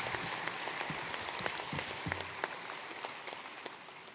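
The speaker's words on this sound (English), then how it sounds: "Give His Excellency another round of applause." Audience applause at the official opening ceremony of an annual general meeting, steady dense clapping from a crowd in a hall, moderately quiet and continuous throughout, with no talking over it.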